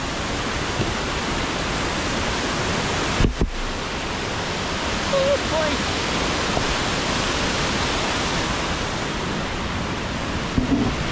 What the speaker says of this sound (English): Cascading waterfalls, you name it.